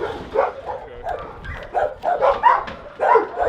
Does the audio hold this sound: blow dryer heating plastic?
no